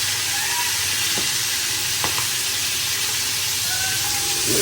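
Hilsa fish fries in a pan with a loud, continuous hiss and sizzle, steam-like and close, with a few sharp clicks or utensil taps rising through the steady crackle.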